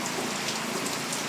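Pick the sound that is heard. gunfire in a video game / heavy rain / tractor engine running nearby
heavy rain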